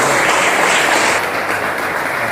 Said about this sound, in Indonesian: Tangan untuk kita semua.